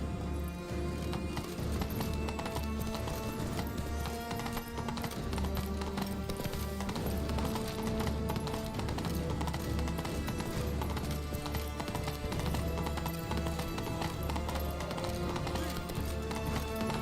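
The horse Roach gallops in Witcher 3, giving a steady, dense clip-clop of hooves that runs without a break under a continuous bed of game music and ambience.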